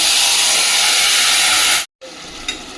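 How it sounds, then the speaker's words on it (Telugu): Tomatoes dropped into hot oil with curry leaves for a garlic tomato chutney give a loud, close, steady hiss of sizzling that cuts out briefly and then resumes more quietly. "ఇప్పుడు మన టమాటాని ఇందులో వేసేసుకోవాలి."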